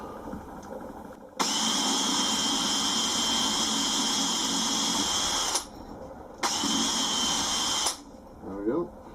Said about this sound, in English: first thing I'm going to do is pop a small drill bit through